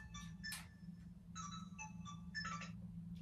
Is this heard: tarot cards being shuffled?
no